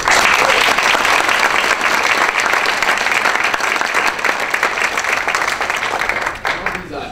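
An awards reception crowd at the Atlanta Press Club gives a speaker a warm welcome: dense, loud, sustained applause that holds steady and tapers slightly at the end.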